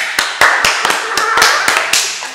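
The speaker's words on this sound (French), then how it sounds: "Applaudissez." Sharp hand claps in front of an audience during a French drama scene, a handful of distinct loud smacks at uneven intervals, with a few softer pats between them.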